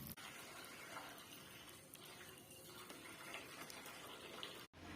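Water sprinkled gently through holes punched in a water-bottle cap onto a pot of freshly sown Tecoma seeds, a steady, soft, close trickle running continuously with no talking.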